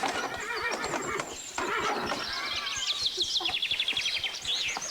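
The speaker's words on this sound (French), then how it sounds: "t'inquiète pas, Julie, c'est un cheval très docile, très calme" A horse whinnies with a long, wavering neigh over steady clip-clop hooves, with faint bird chirps in the background.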